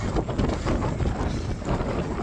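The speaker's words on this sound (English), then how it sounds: "Woo, it's windy and blustery." Strong wind buffets the microphone on Pendle Hill during a wild camp as rain starts, a loud continuous low roar with gusting surges from start to finish.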